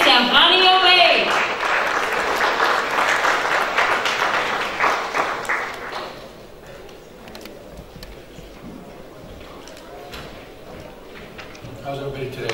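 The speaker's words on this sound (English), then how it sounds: "So please give a round of applause to Mr. Hani Obeid." Audience applauding as a speaker is introduced at an entrepreneurship and smart cities forum, a dense burst of clapping for about six seconds that then fades to quiet room ambience.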